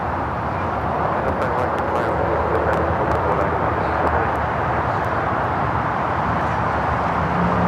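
An Emirates airliner taxis toward the Tom Bradley terminal at Los Angeles airport, its jet engines giving a loud, continuous roar with a steady low rumble.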